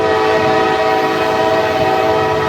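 An intermodal freight train passes very close in Lilly, Pennsylvania, its horn blaring loud and steady throughout over a constant rumble of rolling railcars.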